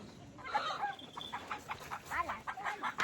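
Chickens cluck in short, irregular bursts close by while being caught and handled, over a faint background hum.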